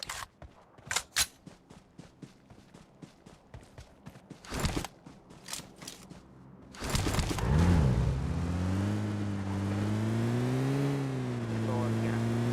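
Car engine in PUBG, steady droning hum with gliding pitch as the vehicle accelerates and drives, following a stretch of gunfire-like clicks and footsteps; voices talk over the game.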